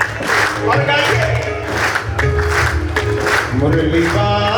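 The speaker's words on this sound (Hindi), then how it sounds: "तालियां बजती रहे और गाइए।" Audience clapping keeps a steady rhythm beside devotional bhajan singing and instruments at a crowded bhajan sandhya, with the claps partly buried under the loud music throughout.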